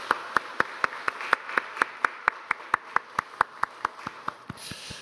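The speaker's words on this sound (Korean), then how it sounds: "우리 청년들에게 박수로 같이 한번 격려 한번 하겠습니다" A church congregation claps in a steady, even rhythm of about four beats per second, sharp crisp claps close together for around five seconds with no talking over them.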